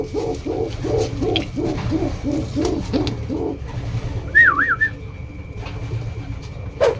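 Racing pigeons cooing inside their loft, a rhythmic series of soft, close coos in a steady pulse, followed by a brief bright whistle-like call over a low background hum.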